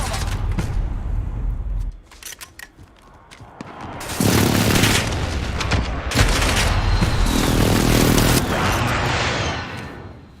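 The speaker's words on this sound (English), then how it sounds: "Enemy precision airstrike." Precision airstrike in Call of Duty: Modern Warfare, with loud rumbling explosions and crackling blasts that swell and roll on in waves under gunfire, a brief lull midway before a heavier barrage.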